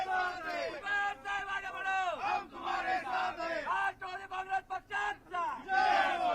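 A crowd in Nashik celebrates minister Chhagan Bhujbal's oath, with many voices chanting and shouting slogans in loud, rhythmic bursts that rise and fall close by.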